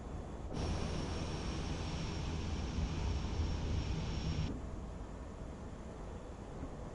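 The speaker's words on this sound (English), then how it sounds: "We need to turn on reverse thrust." Airliner engines spooling on reverse thrust in Microsoft Flight Simulator, a steady broadband roar with a thin high whine that rises abruptly, holds for about four seconds, then cuts back to a lower rumble, with no talking.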